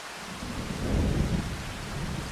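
Heavy thunderstorm rain falls in the video game Farming Simulator 25, a dense, steady hiss with a deep rumble of thunder swelling in the middle, loud and without talk.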